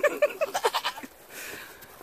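Goat bleating in a farm pen, a quick run of short wavering bleats up close, followed by quieter rustling; a voice may blend in with the calls.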